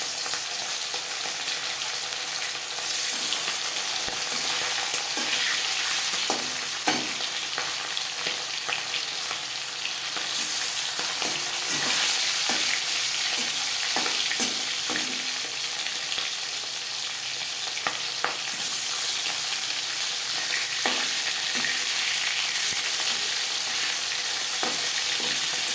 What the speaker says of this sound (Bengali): 4 চামচ রিফাইন্ড অয়েল গরম করে নিয়েছি। দিয়ে দেবো ম্যারিনেট করে রাখা মাছ।